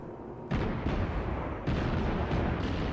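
German cruiser guns fire high-explosive shells in World of Warships: two heavy, booming salvos about a second apart. Each boom rolls into a long, loud rumble with no voices over it.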